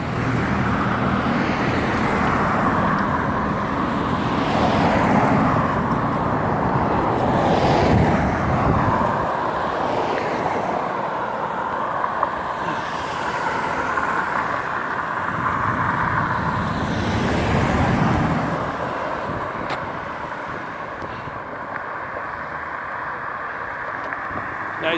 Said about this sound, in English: Freaking noisy traffic.